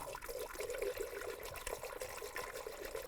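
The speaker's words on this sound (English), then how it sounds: "Now add your appropriate coolant and level." Coolant pours and trickles steadily into the radiator of a 2002-2009 Chevy Trailblazer, a soft, continuous close-up gurgle with no voices.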